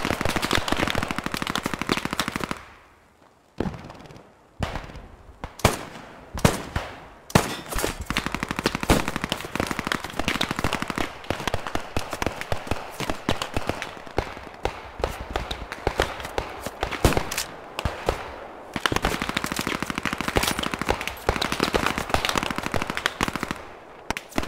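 Machine gun fire in the WWII shooter Post Scriptum, set in Doorwerth, Netherlands: dense, loud bursts of rapid automatic shots with brief gaps, rattling on almost continuously, mixed with scattered single gunshots and battlefield noise.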